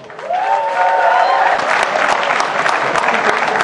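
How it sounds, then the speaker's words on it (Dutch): Applause erupts in a café farewell party for Harrie and Jeanette in Stramproy, building quickly into loud, dense clapping with some cheering; a voice speaks briefly at the start over the crowd. "geef Harry en Jeanette eens een goed applaus"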